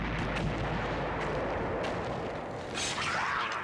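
A flashbang grenade goes off in the video game Eternal Darkness: Sanity's Requiem, a loud booming blast with dense rumbling noise filling the whole moment.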